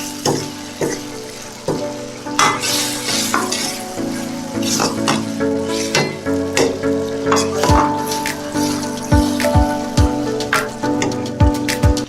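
Crispy mushrooms sizzle and fry in a pan of spicy chilli-flake sauce for a dragon chilli mushroom dish, with steady close crackling and repeated scraping stirs and clinks of a utensil against the pan, no talking.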